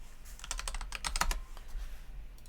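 Rapid clacking of computer keyboard keys as a command is typed into 2D drafting software, a close burst of keystrokes with no talking.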